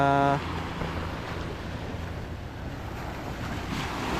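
Wind and rolling ocean waves roar continuously at close range, a heavy washing surge with a brief engine-like hum at the start.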